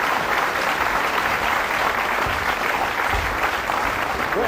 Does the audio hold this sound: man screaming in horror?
no